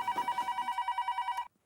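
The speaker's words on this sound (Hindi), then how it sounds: "बार बार यहाँ पे फोन क्यों कर रहे हो?" A telephone rings in a steady electronic trill of repeated pulses, loud and close, with no talk over it, then stops abruptly near the end.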